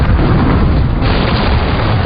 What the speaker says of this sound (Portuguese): Mas a soldagem por explosão não é o único processo arriscado